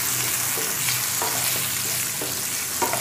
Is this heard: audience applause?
no